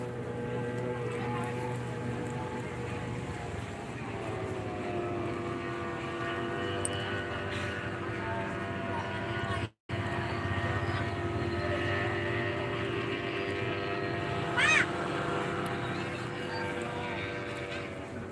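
An aircraft flies over an F1 powerboat race on Lake Toba at Balige, a steady, fairly loud drone with layered engine hum that holds throughout, briefly cut out midway.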